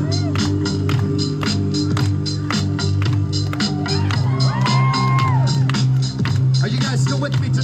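A live show audience claps, whoops and shouts in a loud, dense burst of crowd noise, with sharp hand claps and cheering voices layered over a low hum.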